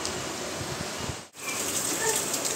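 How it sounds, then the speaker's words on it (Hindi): Heavy monsoon rain pours down around a house in a continuous dense hiss, close and loud, with a brief dropout midway before the downpour resumes. "आज तो फुल बारिश का मौसम है, फुल बारिश चालू है यहाँ पे"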